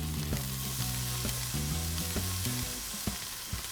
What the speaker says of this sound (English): So let's put them in. Hear the sizzle.